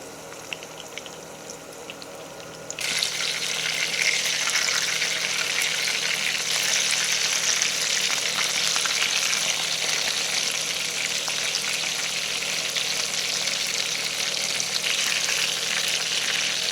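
Chopped ingredients for chicken bread hit hot oil with a sudden loud sizzle after a quiet start, then a steady, close, bubbling fry continues for the rest of the time.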